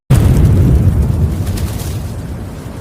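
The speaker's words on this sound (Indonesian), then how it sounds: "tiba-tiba sebuah ledakan terjadi di daerah rumah Farha" A sudden loud explosion bursts out, then a heavy rumbling boom slowly fades away.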